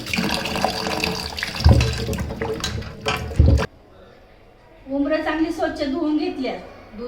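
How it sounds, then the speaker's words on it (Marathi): Tap water runs and splashes as cluster figs are rinsed by hand, then stops; afterward a person speaks briefly in a quiet room. "उमरं चांगली स्वच्छ धुवून घ्यायची"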